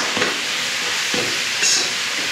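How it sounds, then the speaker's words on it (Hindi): Spices frying in a pan on a home stove, with a soft steady sizzle and a few scraping stir strokes near the start and middle, close and moderately loud, no talk. "अब हम मसालों को बढ़िया से भून लेंगे"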